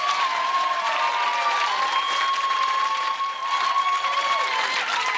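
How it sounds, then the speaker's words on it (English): Studio audience at a BBC National Lottery game show applauds the contestants with steady, dense clapping that stays loud and even throughout, a faint tonal music line running beneath. "a big round of applause, please, for our contestants tonight"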